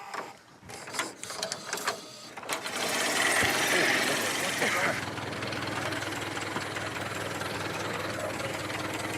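A 1908-era Model T Ford engine catches and settles into a steady, rattling idle after intermittent knocks and turning-over sounds, running close by and continuing evenly to the end.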